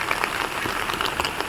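Rain patters steadily on garden plants, croton leaves among them, a dense close-up texture of many small drops with no pause.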